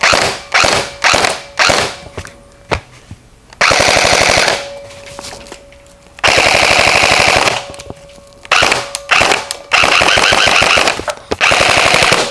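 A KWA T10 RM4 airsoft AEG rifle with its stock spring fires in loud, close bursts, short rapid strings at first, then longer sustained full-auto runs separated by pauses, with no talk.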